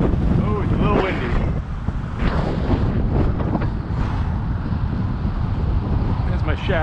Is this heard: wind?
yes